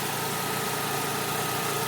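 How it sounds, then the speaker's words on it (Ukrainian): An Audi A3 1.6 MPI engine idles after a cylinder head repair, giving a steady, even hum that holds constant from start to finish with no voices. "Головку поставив, мотор працює."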